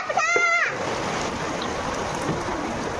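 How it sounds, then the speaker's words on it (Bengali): Heavy rain falls in a steady, broad wash of noise after a short burst of voice at the start, continuing evenly and fairly loud to the end. "আর 12টা বৃষ্টি দেখো কিরকম বৃষ্টি হচ্ছে"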